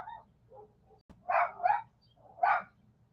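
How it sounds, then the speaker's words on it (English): A dog barks outdoors on a hot day, giving a few short, moderately distant yaps: a faint one first, then a louder double bark and one more, with quiet gaps between. "Here goes Saucy Pants outside barking"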